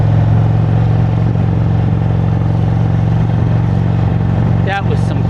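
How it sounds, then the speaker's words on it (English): An Indian Chieftain motorcycle with a Fuel Moto tune, set in sport mode, holds a loud, steady engine note close by with a deep low rumble, and a brief whistling sweep near the end. "You can hear there's more grunt in sport mode. When you rev the throttle, you can hear it."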